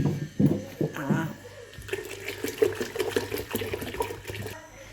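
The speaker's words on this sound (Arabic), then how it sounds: "ودابا غادي نضيف عليه 4 يطرو د الماء" Water poured into a batch of fresh lemon juice, a steady liquid pouring and splashing sound running through most of the clip, with a voice speaking over the opening part.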